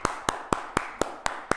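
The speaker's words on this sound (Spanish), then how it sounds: "un aplauso muy fuerte para Nayib" Slow, evenly spaced hand claps ring out, seven sharp single claps in a steady rhythm, close and clear with little else around them, as applause for a speaker.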